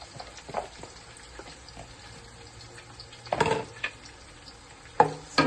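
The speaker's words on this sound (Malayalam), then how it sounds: "നമുക്ക് അതിലേക്ക് സബോള ഇട്ട് കൊടുക്കാം കേട്ടോ." Sliced onions dropped into hot oil in a pan for mutton biryani, a quiet sizzle broken by a couple of sharp bursts as pieces hit the oil, with faint clinks in between.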